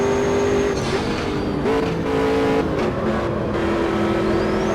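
Sigma P1 prototype race car in Automobilista 2, its engine screaming at high revs with gear shifts and shifting pitch, loud and continuous throughout.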